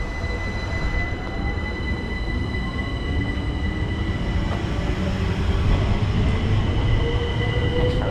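A Southeastern electric train pulling out of London Victoria bound for Ramsgate, a steady rolling rumble with faint wheel squeal and whining tones, continuous and moderately loud, no voices.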